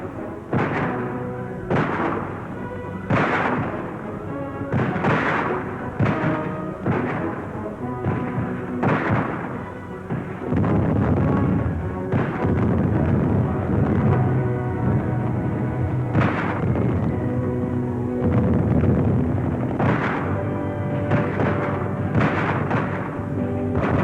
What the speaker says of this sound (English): Cannons thunder